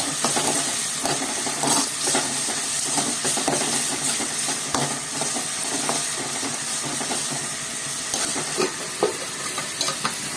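Salted onions frying in a pan for a broad bean curry, a constant close sizzle and hiss with frequent light scrapes and stirs running through, no speech.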